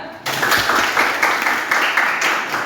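A classroom of students applauds together in steady, dense clapping, close and fairly loud, following a teacher's call during a lesson on social structure.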